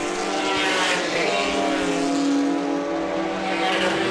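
Classic Porsche 911 race cars in a sliding wheel-to-wheel battle, engines roaring loud and close with a continuous high-revving snarl and shifting pitch as they pass.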